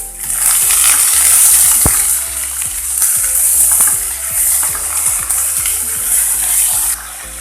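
Chopped ivy gourd (kovakka) with curry leaves fries in a pan with a steady loud sizzle, while a spoon scrapes and stirs through it in repeated clinks and knocks close by.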